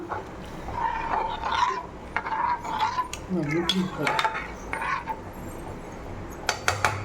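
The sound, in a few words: stirring batter in pan with spoon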